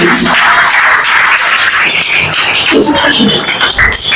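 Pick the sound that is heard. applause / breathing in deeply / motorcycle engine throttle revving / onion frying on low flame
applause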